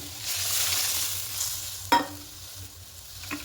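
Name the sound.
mustard paste and rinse water added to frying eggplant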